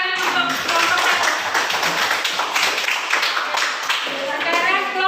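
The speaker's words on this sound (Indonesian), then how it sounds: "Beri tepuk tangan untuk kelompok 1." Students in a classroom clap for a presenting group, a busy patter of hands that stays steady and close for several seconds, with children's voices mixed in beneath.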